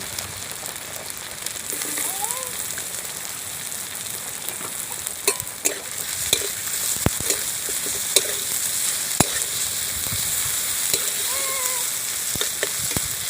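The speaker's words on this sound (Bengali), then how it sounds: "পেঁয়াজটা আমি একটু ভাজা ভাজা করে নেব।" Chopped onions fry in a pan for a spicy Amodi river fish curry, a continuous sizzle broken by sharp clicks and scrapes of stirring, with no speech.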